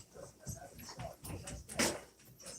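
Indoors in a living room, several dogs whimper and yip in short irregular bursts, fairly faint and close, with some rustling movement and no clear speech.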